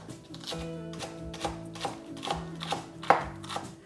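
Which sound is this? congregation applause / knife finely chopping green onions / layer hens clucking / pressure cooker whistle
knife finely chopping green onions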